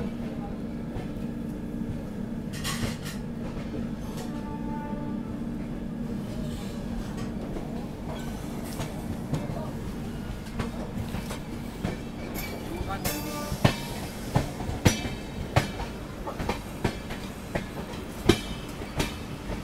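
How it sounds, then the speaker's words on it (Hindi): A train rolls along a railway line near Mathura, giving a continuous low rumble with rhythmic clickety-clack and sharp wheel knocks that grow more pronounced toward the end, while people talk faintly nearby. "कासगंज वाली लाइन पे कोई गाड़ी निकल रही है मथुरा से"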